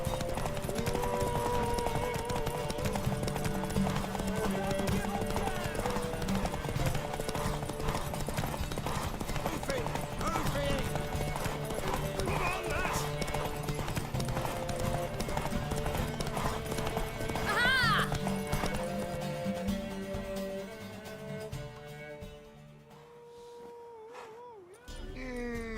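Horse hooves clip-clopping in a race in The Witcher 3 video game, a steady rhythmic patter running under game music and people talking, with a horse neighing briefly, fading toward the end.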